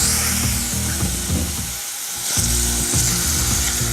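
Minced garlic and a quarter cup of onion fry in a very hot pan, a loud, close, continuous sizzle with a brief dip midway, overlaid by a low rhythmic pulsing hum, without speech.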